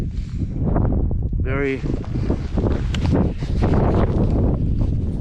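Strong winter wind at Ustaoset in Norway buffeting a GoPro 8 microphone, a loud continuous rumbling roar throughout with a brief voice breaking through.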